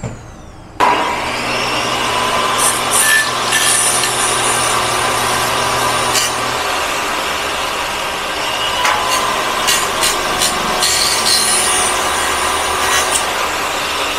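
Power saw cutting an aluminum SF section screen door frame, starting abruptly into a loud, steady whine with a low motor hum that continues to the end, close by and without talking.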